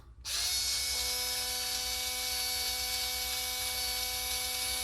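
A small Racer's Edge electric drill runs steadily, driving out beadlock wheel screws on an RC truck: a sudden start, then a continuous close whirring motor whine with a steady pitch.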